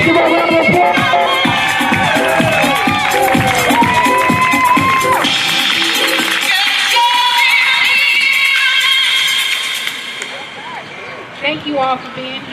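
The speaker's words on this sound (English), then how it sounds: "Renee Brown, let's give her a round of applause." A crowd at an outdoor LGBTQIA+ Pride flag raising ceremony in East Orange applauds, cheers and whoops loudly for about ten seconds, then the clapping thins out into scattered claps and calls.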